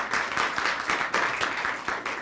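Audience applause after a panel on a Lackawanna County ballot question: steady, fairly close clapping from a modest crowd, filling the moment without speech.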